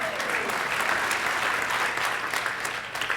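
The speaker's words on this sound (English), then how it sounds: "You can clap for that." A congregation at a Unity Center spiritual service claps in a steady, even round of moderately quiet applause that carries on without a break.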